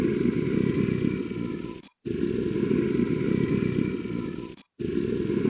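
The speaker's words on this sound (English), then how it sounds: "Now play a feral growl." A feral growl from a Night Vale fan video game, a continuous loud, rough, rumbling snarl broken by two brief silences as it loops, close and alone.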